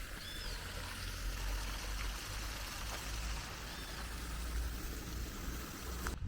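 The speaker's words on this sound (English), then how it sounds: "I'm just going to go and sit by this fountain for about 5-10 minutes and listen to the water splashing." Water splashes and trickles in a city square fountain in Cayenne, French Guiana, a steady close rushing wash with faint bird chirps in the background.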